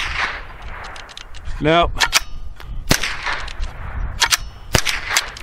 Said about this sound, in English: So I'm going to fire 10 rounds of the auto match